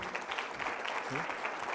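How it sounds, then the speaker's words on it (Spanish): Audience applause after a talk at a professional forum, a steady continuous patter of many hands filling the room at moderate level, with faint voices mixed in. "Creo que se merece un gran aplauso."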